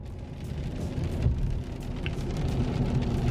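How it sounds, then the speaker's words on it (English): Steady rain patters on a Colorado ZR2 truck at night, a soft continuous wash of drops with a few heavier taps, quiet and close. "And it's currently raining."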